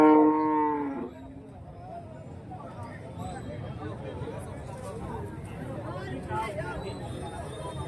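A Jersey cow lets out a loud, drawn-out moo up close at a livestock market, followed by a noisy crowd of people chattering in the background.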